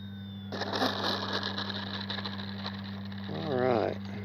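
An FMS Ranger 1220mm RC airplane's electric motor whines steadily at a distance, then rises and wavers near the end as it comes in to land, faint under a constant background hum.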